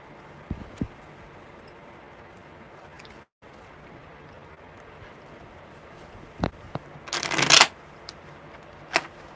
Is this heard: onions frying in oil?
no